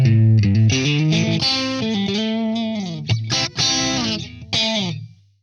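A Fender Stratocaster electric guitar played through a Vox AC50 amp with no echo, giving a short clean melodic phrase of distinct notes and brief gaps, close and alone.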